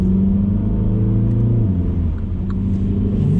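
A Mini Cooper S with a 192 hp engine droning steadily while driving, a loud, close in-cabin engine note with a slight shift in pitch partway through and no speech.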